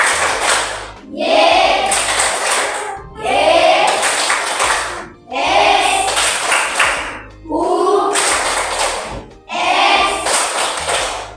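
A group of people claps the "tepuk Yesus" clapping rhythm in five bursts of quick hand claps, each burst mixed with chanting voices, with short pauses between the bursts.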